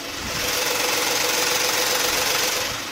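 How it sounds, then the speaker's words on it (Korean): A Genesis large luxury sedan's engine idles steadily and close under the open hood, a smooth regular hum with a faint rhythmic ticking, heard alone. "영상에서 들리시는 것 같이 굉장히 정숙하고 규칙적인 엔진 사운드 들려주고 있고요"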